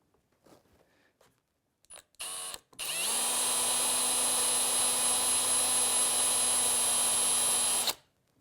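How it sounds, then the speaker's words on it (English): After a few short bursts, a power drill with a 3/8 inch bit whirs at a high, steady pitch for about five seconds, then stops abruptly. "Switch out to a 3/8 of an inch drill bit."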